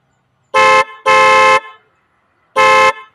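A loud stock horn on a TMX 125 Alpha motorcycle sounds three times, two close blasts followed by a third after a pause, each a steady uninterrupted tone.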